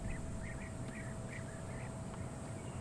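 Bee-eaters catching termites on the wing give a series of short trilling calls at sunset on safari, faint and somewhat distant above a low steady rumble.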